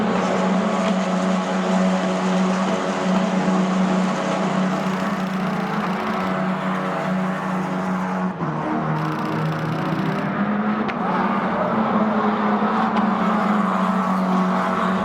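F1 Academy race cars pass continuously on a racing circuit, a loud, sustained engine whine with pitch shifting as cars go by, no talk.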